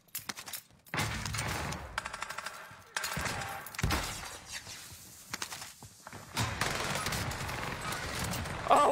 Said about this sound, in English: Decoy grenade?